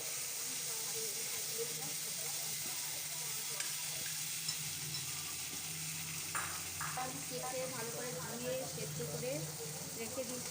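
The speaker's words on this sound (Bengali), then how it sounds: "এবার আমি মাছের ডিমটা দিয়ে দেবো, আগের থেকে ভেজে রেখেছিলাম যে মাছের ডিমটা।" Pre-fried fish roe going into a pan of sizzling masala, with a constant loud frying hiss, steam and stirring scrapes throughout, plus a faint voice talking underneath.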